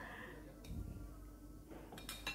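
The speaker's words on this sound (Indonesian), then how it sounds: "kita aduk sampai semuanya tercampur rata" A utensil stirs quinoa salad dressed with olive oil, salt, honey and ground black pepper in a bowl, giving soft scraping with a few light clinks against the dish and no talking.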